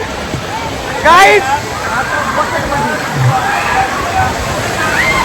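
Water pours and sloshes down at the Wet 'N Joy water park, rushing steadily with a louder splash early on, under someone talking and crowd babble.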